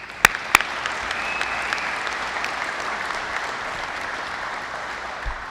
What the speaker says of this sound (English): please give another round of applause for our speakers today